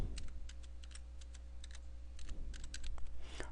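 Quick, light clicking of a computer keyboard as the word Photoshop is typed in capitals, a close run of keystrokes over a faint steady hum, with no talking.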